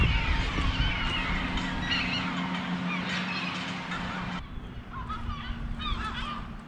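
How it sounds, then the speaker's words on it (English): Many gulls call and squawk over one another in a noisy flock, with a steady low hum beneath that cuts off partway through. "What is going on with all those bloody seagulls?"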